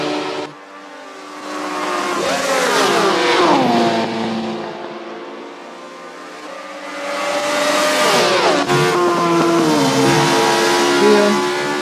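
A 1977 Opel Kadett four-cylinder engine accelerates hard twice, its revs climbing and falling through gear changes, loud and close with no talking.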